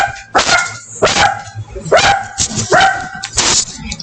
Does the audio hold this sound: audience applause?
no